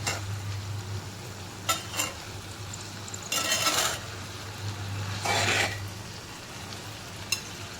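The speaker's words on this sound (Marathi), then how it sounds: "भाजी शिजत आलेली आहे. 2 मिनिटं आपण भाजी अशी वाफेवर शिजत घेणार आहे." Cowpea pod vegetable steaming and sizzling in a pan, with a few short scraping stirs standing out over a steady low hum and soft frying hiss.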